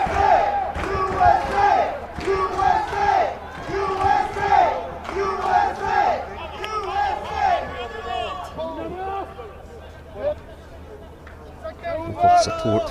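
A sizable stadium crowd at a USA versus Uruguay under-20 rugby match at Hive Stadium chants and cheers in rhythmic swells, loud and steady, easing toward the end with a brief final burst.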